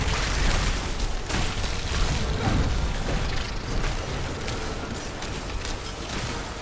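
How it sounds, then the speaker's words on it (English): Enemies explode in a continuous barrage of muffled booms and bursts during Diablo 4 Sorcerer combat at World Tier 2, dense and loud throughout with no pause. "Look at them like all exploding."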